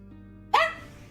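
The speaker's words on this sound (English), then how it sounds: "I just love how it lifts his front feet off the ground when he barks" A dog lets out one short, sharp bark at close range, loud and sudden against quiet surroundings.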